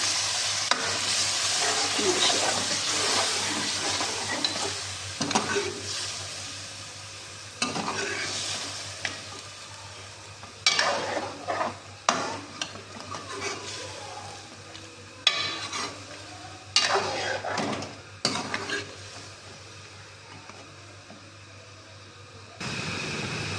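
White mutton qorma with yogurt, white and black pepper, turmeric and coriander powder fries in a pot, loud bursts of sizzling and stirring that come and go in waves, with scraping against the pan and quieter gaps, no talk.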